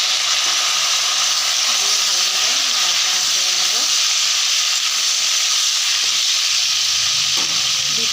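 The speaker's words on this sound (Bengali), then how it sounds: "দেখুন বন্ধুরা, আলুগুলো ভাজা হয়ে গেছে। এবার আমি কেটে রাখা ঝিঙেগুলো দিয়ে দেবো।" Sliced ridge gourd fries with already fried potatoes in a pan, giving a strong, continuous hiss and crackle of oil close up, with faint clatter underneath.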